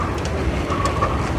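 A Singapore MRT train rumbles along in a steady low roar, with faint rattling and a brief whine rising over it for a moment, close and continuous with no talk.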